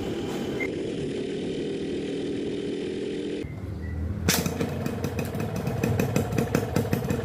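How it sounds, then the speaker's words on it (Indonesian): A two-stroke motorcycle engine, running on Global Petro America X1 2T oil, idles just after a cold start. It gives a steady buzzing putter that turns into a louder, rapid rattling beat partway through, with no voices. "Dan ini adalah kondisi pada saat awal banget mesin gua nyalain."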